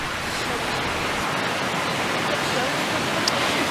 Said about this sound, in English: the water is rushing and you can hear it as all the currents are rushing together